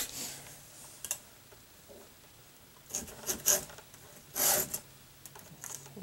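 A hand file strokes across a chainsaw chain's cutters in a few short rasping bursts, close and fairly quiet, separated by pauses.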